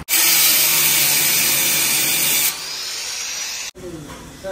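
A power tool cuts into a Mahindra Scorpio bumper with a loud, harsh, continuous grinding whine that shifts in pitch partway through, then stops abruptly before a brief restart.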